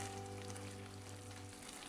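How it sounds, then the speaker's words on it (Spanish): Green peppers frying in a pan in oil for a Spanish pisto manchego, a steady, close sizzle with fine crackles, continuous and without talk. "Cuando se están friendo los pimientos"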